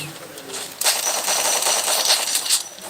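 SMG fire in the Free Fire battle royale game, a rapid burst that starts abruptly and keeps going loud and sustained for about two seconds, with a brief tone heard just before it.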